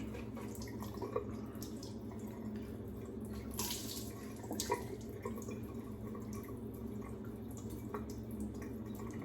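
A shaving bowl and brush are rinsed under a running sink tap, giving a steady close water flow with a few brief splashes and clinks over faint room hum.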